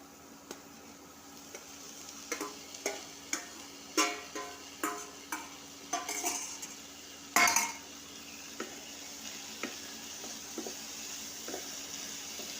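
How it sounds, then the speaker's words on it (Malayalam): Prawns for chemeen roast fry in a pan with a low steady sizzle, punctuated by a regular run of spoon scrapes and metallic clinks against the pan and one louder clatter midway; no voices. "നമുക്ക് ചെമ്മീൻ ഇട്ട് കൊടുക്കാം."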